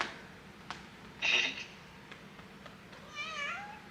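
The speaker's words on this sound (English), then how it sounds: "She did a meow." A cat gives a short, high meow, followed a couple of seconds later by a longer wavering meow, against quiet indoor background.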